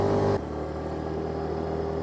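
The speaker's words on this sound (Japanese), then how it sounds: "先ほどからスロットル全開にするシーンが増えてきましたけれども、エンジンの音はこれぐらいなのでやはり静かですね" A Yamaha Axis Z scooter running at full throttle gives a quiet, steady engine drone with a constant hum, with a louder burst at the very start, then even and subdued.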